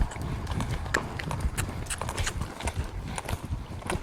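A stallion lopes around a barn, his hooves striking in a steady, rolling three-beat rhythm of thuds and clops, fairly close, with faint creaks of tack and movement underneath.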